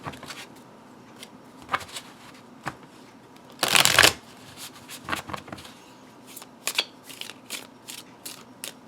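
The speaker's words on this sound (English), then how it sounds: "I quite like the feel of shuffling them because they're so thin" Thin Lo Scarabeo tarot cards being shuffled, with scattered soft riffling flicks and one loud, dense burst of rapid card slaps midway, close up and alone with no talk.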